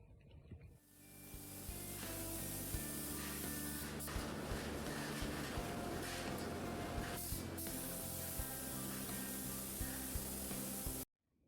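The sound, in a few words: powder coating spray on a ceiling fan blade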